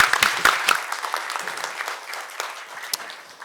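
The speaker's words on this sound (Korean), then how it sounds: "큰 박수로 한번 감사함을 드립니다" At a Seoul National University anniversary forum, the audience in the hall claps with loud, sharp, close claps at the start that thin into scattered, fading applause.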